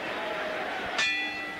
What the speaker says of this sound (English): the bell will end the first round in just 10 seconds